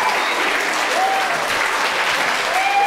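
Audience applause at a public library author event, a dense, loud burst of clapping from a small crowd with a couple of faint cheer-like tones on top, steady throughout.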